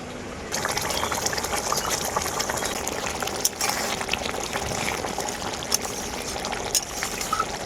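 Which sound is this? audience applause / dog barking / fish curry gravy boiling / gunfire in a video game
fish curry gravy boiling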